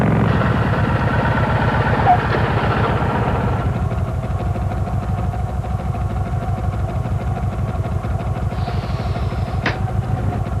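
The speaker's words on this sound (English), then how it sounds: "The new Kawasaki Vulcan 1500 Classic. With the biggest V-twin ever to hit the asphalt" A Kawasaki Vulcan 1500 Classic V-twin motorcycle engine thumps in a steady, loud, rhythmic pulse throughout, with a brief rising whine near the end.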